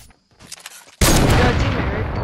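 Gunfire in Fortnite aimed at a tree: after a second of quieter game sounds and faint voice, a loud, dense burst of rapid shots erupts and continues without pause to the end.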